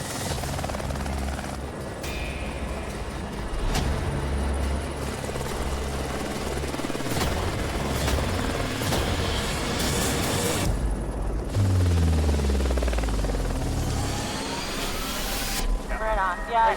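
A helicopter landing on a pad at a logging site, with a steady rotor and engine drone throughout, growing heavier and rumbling near the end, under a voice speaking over it.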